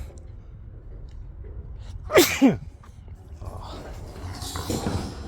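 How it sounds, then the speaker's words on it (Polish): A single loud human sneeze close by, a sharp double burst in the middle of a quiet construction-site background, with faint talk afterward. "tak się kicha na kielicha."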